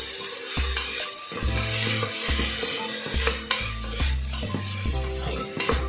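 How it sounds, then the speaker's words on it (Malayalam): Basmati rice being sautéed in butter inside a pressure cooker, with a spoon stirring and scraping against the pot in steady repeated strokes under a soft sizzle, close and fairly loud, with no talk. "നന്നായിട്ടൊന്ന് വഴറ്റി കൊടുക്കാം."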